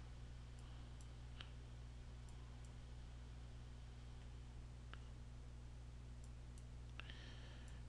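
A computer mouse clicks a few times while trying to close a packet tracer window, isolated faint sharp clicks spread over steady background hiss, with no talk.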